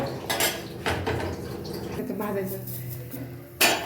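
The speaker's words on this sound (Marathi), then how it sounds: "तर आता आपल्याला तो तवा काढून घ्यायचा काढून साईडला ठेवायचा" Metal clatter of a heavy iron griddle being lifted off the stove after roasting flatbread, a few clanks and scrapes, with a sharp clang near the end.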